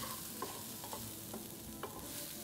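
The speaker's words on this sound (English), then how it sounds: "I'm going to give it a final nice mix." Vegetables seasoned with salt and crushed black pepper being stirred in a pan, a faint soft sizzle with a few light scraping taps of a spatula at irregular intervals.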